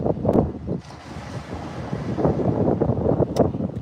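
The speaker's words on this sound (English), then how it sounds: "It's a windy day down here in Cape Breton today. 40-kilometer gusts right now." Strong wind gusts buffeting the microphone on a Cape Breton beach in Nova Scotia, a steady roaring rush that swells and dips, with surf likely mixed in the broadband noise and no voices.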